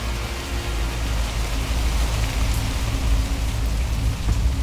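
Steady, heavy rainfall in the video game Dungeon Fighter Online pours down as a dense, unbroken hiss, with no voices and no pauses.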